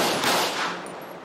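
A rapid volley of gunshots in GTA 5 during a police traffic stop, dense and loud, firing continuously for about a second before trailing off, with no talking.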